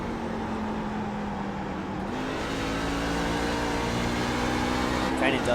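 A race car engine hums steadily from inside the cockpit, its tone stepping up once in pitch and then holding a sustained drone, while voices talk over it.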